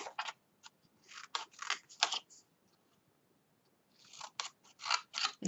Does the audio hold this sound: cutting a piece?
yes